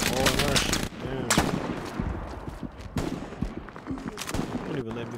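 Rapid machine gun bursts in the war game Hell Let Loose, loud and close, stuttering in several volleys with brief gaps, mixed with other gunfire while someone talks over it.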